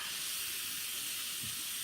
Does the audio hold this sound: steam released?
yes